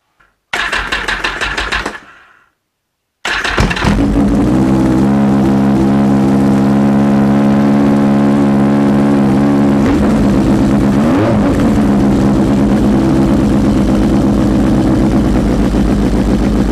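A Yamaha XS1100 motorcycle engine with a big bore kit and performance head cranks and sputters, cuts out briefly, then fires up and settles into a loud, steady idle with a couple of slight revs.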